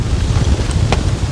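Strong storm wind buffets the microphone at a fishing lake, a loud continuous rumbling roar with a couple of brief higher gusts.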